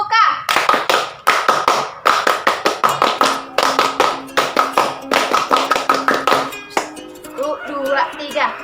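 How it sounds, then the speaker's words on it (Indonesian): A group performs the Pramuka scout clap, sharp synchronized hand claps in a rapid rhythmic pattern, loud and close, with voices briefly heard at the start and end. "2 kali tepuk pramuka."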